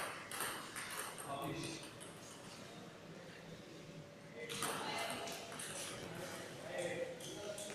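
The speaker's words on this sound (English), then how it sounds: "They are playing table tennis with their phones, yes!" Smartphones with Gorilla Glass struck back and forth like table tennis paddles, giving quiet repeated clicks and pings that come in loose bursts under steady talking.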